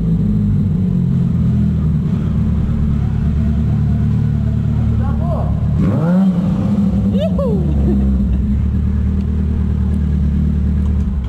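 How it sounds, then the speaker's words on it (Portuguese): A Yamaha XJ motorcycle engine rumbles loudly and revs up mid-ride, its steady low drone swelling briefly, with traffic noise and a passing vehicle around it. "Revidando a XJ."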